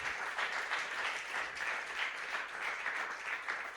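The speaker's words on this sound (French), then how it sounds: "Est-ce que tu peux acclamer très fort le Seigneur?" A church congregation at a Sunday worship service applauds loudly and steadily, a dense wash of clapping that fills the whole moment with no pause.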